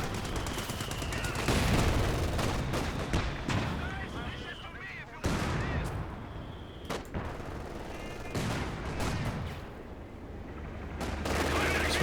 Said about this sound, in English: Machine gun's there though, it's going to suppress it.